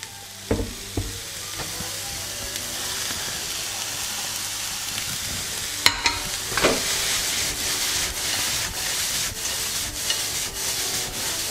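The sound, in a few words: onions and lardons sizzling in hot frying pan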